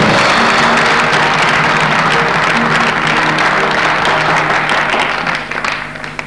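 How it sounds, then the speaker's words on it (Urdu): Steady, loud audience applause at a Pakistani quiz contest, a dense continuous clatter of many hands that holds for about five seconds before thinning and tapering off. "آپ ان دونوں کے لیے تو ایک دفعہ تالی ضرور بجائیے"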